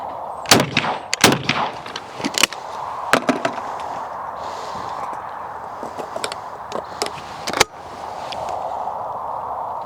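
Several sharp shotgun blasts at clay targets ring out with a Lorona over-and-under, loud and close, irregularly spaced with a cluster early on, a few lighter reports mid-clip and a final strong crack near the end, each trailing into open-air reverb.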